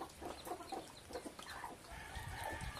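Chickens and newly hatched chicks cluck in a farmyard on a rainy morning, a soft, steady scatter of calls and peeps at moderate distance.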